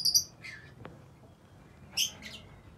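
Pet birds in a small home zoo give a few brief, high chirps between pauses while feeding on dal and roti, the calls moderately close and fairly faint.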